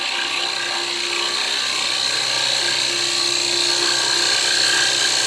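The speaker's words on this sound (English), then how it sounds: "Use a 1/2 inch spindle gouge coming in right on center." Half-inch spindle gouge cutting into a spinning wooden jar lid on a lathe, working from the center across the face; a steady, continuous whine and hiss of the cut with no talk.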